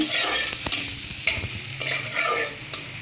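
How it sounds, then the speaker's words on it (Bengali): Koi fish frying in hot oil to a light brown, a steady close sizzle broken by several sharp clattering stirs and scrapes of a utensil in the pan, with no voices. "এটা ভেজে আমি তুলে রাখছি দেখুন হালকা বাদামি রং হবে"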